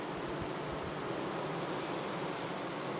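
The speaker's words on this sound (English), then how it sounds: "Beautiful bees. This is a very strong, healthy hive." A dense, loud, continuous buzz of many honey bees swarming close around a strong, healthy hive, steady throughout with no pauses.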